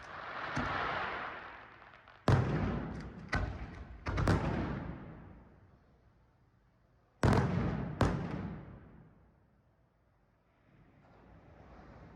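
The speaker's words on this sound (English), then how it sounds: "they had fireworks. That was kind of fun to watch from our room." Fireworks on a weekend night in Cabo, Mexico, heard from a hotel room: five sharp, booming bursts at irregular intervals, each rumbling away slowly, with wind noise between them.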